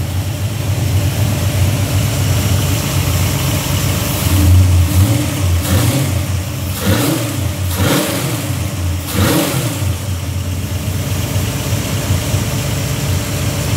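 A car engine fitted with a new camshaft idles with a deep tone and then blips through several quick, snappy throttle revs, close and loud, with no talking.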